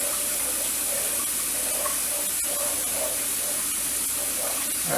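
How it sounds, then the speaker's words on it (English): Cold tap water running into a kitchen sink during home brewing, a loud steady rushing stream that holds constant throughout with no talk. "Cold water in the sink just so I can get down the temperature."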